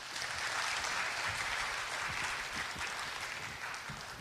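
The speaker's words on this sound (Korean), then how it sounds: "그러면 박수로 우리 임종인 특보님을 모시도록 하겠습니다" A conference audience at a security event applauds to welcome a speaker, a dense, even round of clapping that holds steady and eases slightly at the end.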